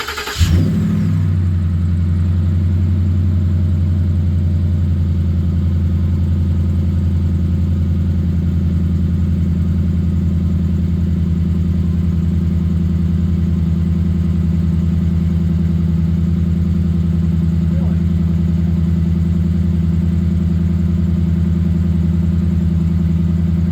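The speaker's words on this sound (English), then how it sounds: "This will be a cold start on the MagnaFlow." Cold start of a vehicle engine fitted with a MagnaFlow exhaust: a sharp crank and catch, then a loud, steady, deep idle drone held close for over twenty seconds with no speech.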